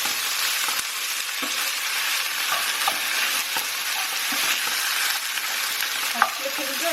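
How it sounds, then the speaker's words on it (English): Beef stir-frying in a hot pan sizzles and crackles continuously and close up, with occasional scrapes and clicks as the meat is stirred, and no talk over it. "So once your beef has changed color, just mix it through."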